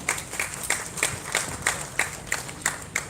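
An audience applauds after a speech at a Carey Day lecture, the clapping steady and rhythmic, with regular synchronized bursts about every third of a second, moderately loud and with no talking over it.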